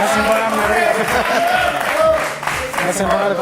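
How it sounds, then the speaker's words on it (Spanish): An audience applauds an author at a public talk event, a dense burst of clapping from a crowd that runs for a few seconds at moderate volume, with some voices mixed in. "Aplauso para Nathanson, por favor."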